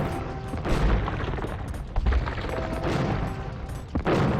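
Bombard cannons firing on and destroying a castle in Age of Empires, with a series of heavy booms, thuds and crashing impacts in quick, uneven succession at close range.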